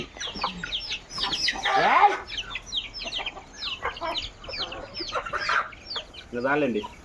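Chickens cluck repeatedly nearby in short, uneven bursts, with a red rooster's call rising among them and a busy farmyard bustle around.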